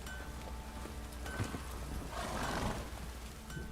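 Roach, the horse in The Witcher 3, galloping with rapid hoofbeats and a whinny, heard through steady rain in the background; no talk over it.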